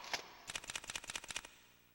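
A single shot followed by a fast rattling string of about a dozen evenly spaced gunshots in the survival horror game Countdown Vampires, crisp and fairly quiet, then a fading tail.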